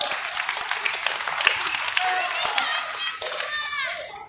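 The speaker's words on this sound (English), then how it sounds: "Let's give her a round of applause." An audience, including children, applauds at a storytelling competition with dense clapping that fades toward the end, mixed with a bit of chatter.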